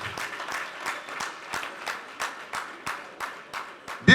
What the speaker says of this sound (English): I thought somebody was going to give an applause for that.